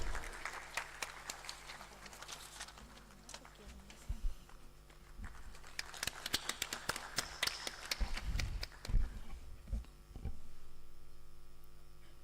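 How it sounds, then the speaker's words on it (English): Audience applause fills a hall at a university valedictory ceremony. Scattered, uneven clapping rises and falls with sharp individual claps over a steady hum, swells toward the end, then gives way to a sustained background drone. "Let's give them a huge round of applause"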